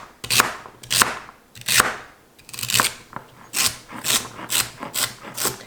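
Celery being chopped with a knife on a board, a run of crisp, crunchy strokes in an uneven rhythm that speeds up toward the end, close by with no talking.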